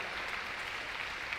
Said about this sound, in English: So give them applause for that